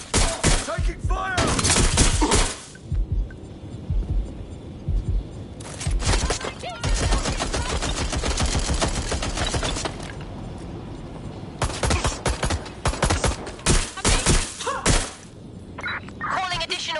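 Gunfire and impact shatters from the video game Watch Dogs: Legion, bursts of loud broadband shots and crashes scattered through the scene, mixed with game voices speaking over the action.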